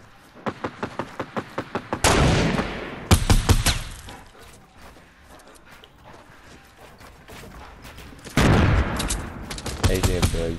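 Video game gunfire in a multiplayer shooter: a rapid string of evenly spaced shots, then heavy blasts and bursts of automatic fire with quieter gaps between, loud and close.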